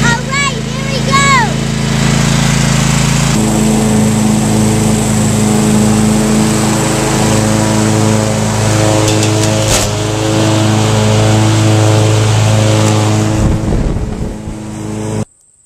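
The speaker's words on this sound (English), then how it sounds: "Let's see what happens to her when we run over her with the lawn tractor" Lawn tractor engine running steadily and close by as it drives over a doll, a continuous droning hum with a few changes in pitch, and voices talking over it.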